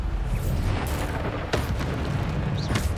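A Bombarda spell explosion in Hogwarts Legacy: a dense, loud burst of booming blasts with sharp pops and crackles that keeps rumbling for the full three seconds, with a fresh strong hit around the middle.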